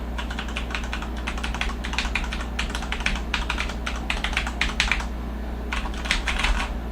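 Rapid, steady typing on a Corsair K70 RGB MK.2 Rapidfire mechanical keyboard, close and crisp, with brief pauses between bursts of keystrokes over a faint low hum and no talking.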